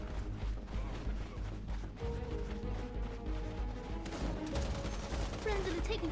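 Rapid bursts of gunfire and heavy impacts in the video game Kill's Wild Assault, dense overlapping shots under a constant battlefield rumble, with a few whistling tones near the end.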